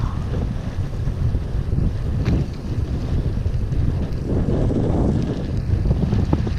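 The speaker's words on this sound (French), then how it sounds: "Oh le vent." Strong gusty wind buffets the microphone with a heavy low roar that rises and falls throughout, no voices over it.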